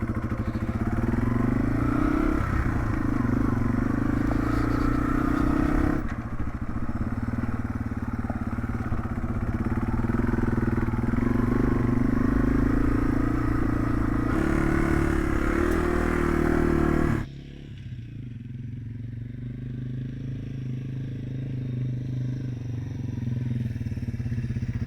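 Yamaha TW200 dual-sport motorcycle riding along at an evening campsite, its steady engine drone loud and close for most of the stretch, then dropping to a quieter low rumble near the end.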